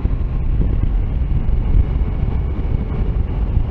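Heavy wind roar buffets the microphone continuously while riding a Triumph Tiger Sport motorcycle, a dense low rushing noise that masks everything else at riding speed.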